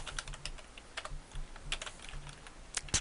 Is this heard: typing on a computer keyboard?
yes